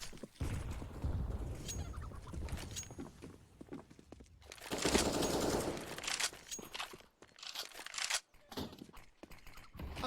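Gunfire from a Counter-Strike match on the Inferno map fills the round, a competitive CN qualifier bout. Dense bursts of automatic fire and scattered shots layer over steady game noise, with a loud exchange near the middle.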